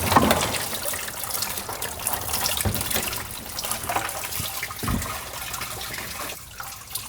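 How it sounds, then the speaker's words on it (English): Coolant from a BMW M4 Competition engine pours and splashes out during a drain in a garage, a steady gushing, watery rush with a few brief clattering knocks, fairly close and continuous. "All this coolant's gonna go everywhere in a sec"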